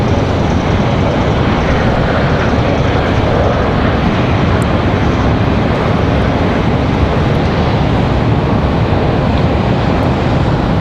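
An American Airlines jet departs Raleigh-Durham for Miami, a loud, dense and unbroken engine roar that fills the whole span with a washing, surf-like texture and no talking.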